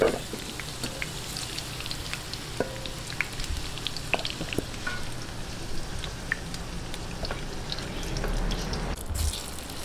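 Pork pochero being stirred in a pan gives off a steady, moderate sizzle with scattered crackles and small pops, plus occasional soft scrapes and clinks of the utensil, with no talking.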